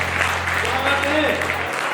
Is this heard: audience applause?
yes